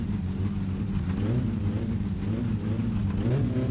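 A car engine in My Summer Car revs loudly and close up, its pitch wavering and sagging as the revs drop off, with a steady throaty drone throughout.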